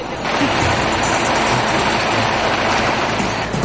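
Rushing floodwater of an overflowing river in Carmen, Davao region, a loud, continuous broadband roar of churning water that holds steady throughout.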